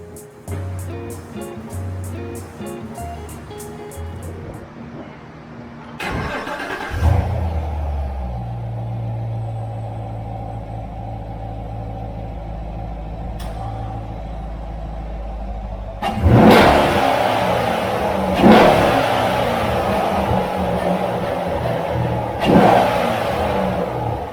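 A C7 Corvette fitted with an Injen cold air intake cranks over and starts, idling with a deep rumble before several loud, sharp revs surge and fall back, heard close up.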